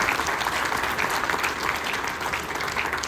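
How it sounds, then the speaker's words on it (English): Audience at a Lincoln County sheriff runoff debate breaking into loud, continuous applause, a thick even wash of many hands clapping close by with no talk over it. "Give them a round of applause for round 2."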